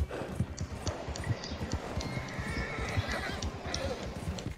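Horse in the Red Dead video game gallops hard with rapid, close hoofbeats and a loud neigh, the pounding continuing steadily throughout with no talk.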